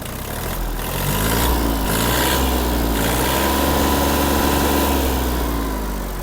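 A Yanmar RS-30 Japanese mini tractor's diesel engine runs nearby with a steady, throbbing low drone, revving up slightly after the first second and then holding an even, loud idle.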